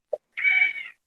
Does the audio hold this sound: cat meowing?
yes